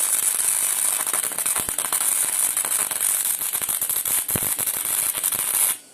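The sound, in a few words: tack welding steel for a blacksmith guillotine tool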